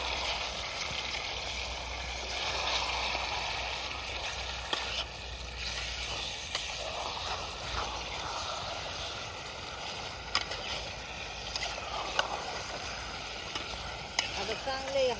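Mutton with turmeric and salt cooking in a pot over a wood fire, stirred with a continuous sizzle and wet scraping, occasional sharp clanks of the spoon against the pot, and faint talk far in the background.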